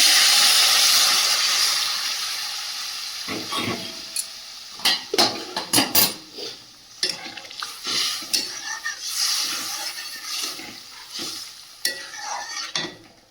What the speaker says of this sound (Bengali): গরম জলটা দিয়ে দেবো তরকারির মধ্যে